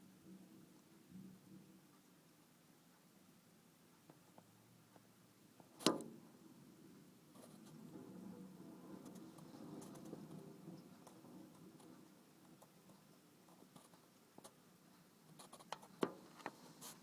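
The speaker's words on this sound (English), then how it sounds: "We're getting a pretty bad thunderstorm today over here." A thunderstorm, heard quietly from a distance: soft rain patters steadily, and a few sharp thunder cracks break through, the strongest one near the middle and another toward the end.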